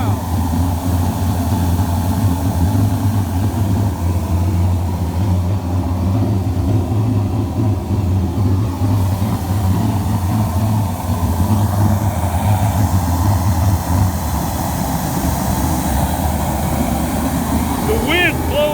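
A 1 megawatt waste oil industrial heating burner roars loudly and steadily, a deep constant rumble that persists unchanged throughout while a voice talks over it.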